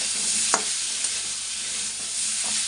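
Fish roe fritters frying in a pan, a steady dense sizzle of hot oil heard up close, with a couple of faint taps from a spatula.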